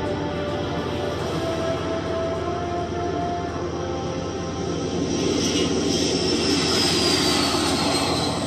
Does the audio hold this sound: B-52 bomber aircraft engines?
yes